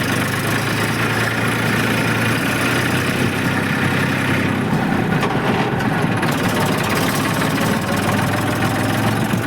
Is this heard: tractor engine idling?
yes